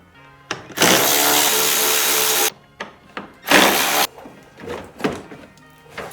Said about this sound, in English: I cut it out with a grinder.